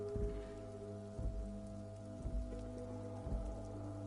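Steady rain falls in a video game scene, a soft continuous patter under a low droning background with a few dull, muffled thumps recurring about once a second.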